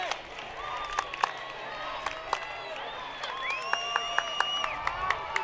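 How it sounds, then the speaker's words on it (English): A home high school football crowd of Bearcat fans chants for defense in the final seconds against the Saints, rhythmic claps and shouts rising in steady beats over a broad cheering roar, with whistles and a commentator talking over it. "We got this Bearcat crowd now chanting for defense"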